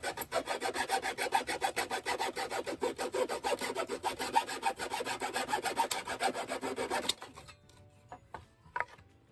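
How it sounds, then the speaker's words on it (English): A hacksaw cuts through scrap wood from broken fence pickets with steady, rapid back-and-forth rasping strokes, close and continuous for about seven seconds before stopping, followed by a few faint clicks and handling noises. "I have my big assistant cutting some of the panel pieces down for me with a hacksaw"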